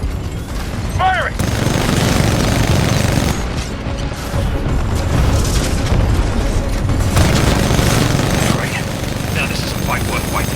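Weapon fire and explosions in Titanfall 2, loud sustained booming and gunfire bursts over a dense mechanical rumble, with brief voice call-outs and radio chatter layered on top.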